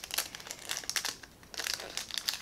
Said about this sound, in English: the only way to get into her weapons is to just tear it